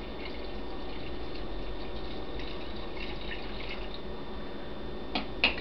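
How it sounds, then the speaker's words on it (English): A steady trickle of liquid being poured into a measuring cup, a continuous wet splashing with a couple of brief drips or clinks near the end, close and moderately quiet. "So we have all our liquids, and I'm just going to pour that in."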